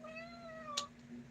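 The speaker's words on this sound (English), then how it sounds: "Sorry, my cat's right here." A house cat gives a faint, short meow close by in a quiet indoor room, one brief call over a low steady hum.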